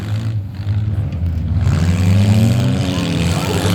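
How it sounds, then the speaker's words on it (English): An Audi's engine revs hard in a demolition derby, a loud, continuous roar that climbs steadily in pitch with crowd and arena noise underneath. "Here comes the Audi!"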